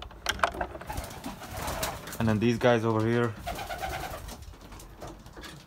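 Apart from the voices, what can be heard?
Belgian racing pigeons cooing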